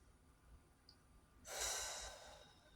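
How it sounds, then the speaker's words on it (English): A single deep breath during a yoga flow, a faint quiet inhale followed by a fuller, airy exhale that swells and slowly fades, with no talking. "Breathe deep."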